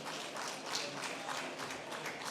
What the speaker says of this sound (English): a big round of applause for Rosie.